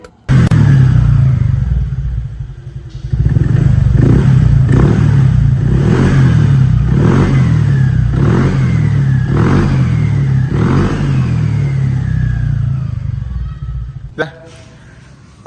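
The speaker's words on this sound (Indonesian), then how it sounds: "Gue mau nyalain dulu posisi CVT masih kebuka, suaranya kayak gimana." A motorcycle with its CVT cover open and 9-gram rollers fitted starts up and revs repeatedly, loud and close, with rising and falling engine pulls and a rattly mechanical clatter from the exposed drive, under occasional talk.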